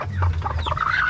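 A gold-coloured mother hen on a small farm gives a short burst of close, low clucks.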